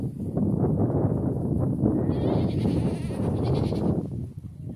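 Goats and sheep on a farm bleat loudly and continuously, several animals calling over one another close up at feeding time.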